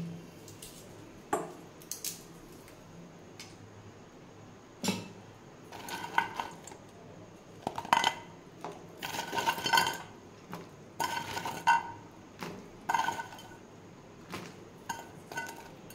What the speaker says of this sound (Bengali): এবারে আমি বড়াগুলো এতে দিয়ে দিচ্ছি।